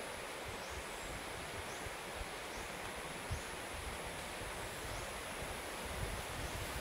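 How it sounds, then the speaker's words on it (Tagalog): Strong wind blows steadily near a hut, a constant broad rushing hiss with no breaks, moderately faint and unaccompanied by voices. "Ang lumakas na simo ng hangin."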